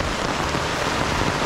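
Steady rain patters on canvas outdoors, a dense even hiss of drops with no let-up, fairly loud and close.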